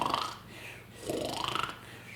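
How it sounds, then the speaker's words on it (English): A snoring sound effect in a children's story about a sleepy classroom: two soft, drawn-out snores with a rasping, rising tone, fairly quiet and heard alone. "and everyone snored."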